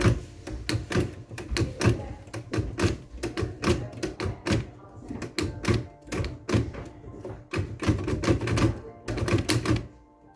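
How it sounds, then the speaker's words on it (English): A typewriter clacks away in a decorated shop interior, with dense, sharp keystrikes in uneven bursts and brief pauses, loud and close throughout with no talking. "Also, there's a typewriter."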